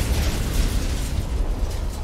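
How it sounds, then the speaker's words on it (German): An explosion in the video game Cyberpunk 2077 gives a loud, sustained rumbling roar that fills the whole stretch, with no speech. "Irgendwas ist ja explodiert."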